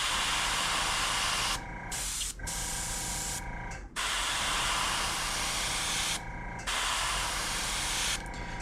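An airbrush sprays paint onto a crankbait lure in repeated hissing bursts, each a few seconds long and separated by short pauses, loud and close with no voices.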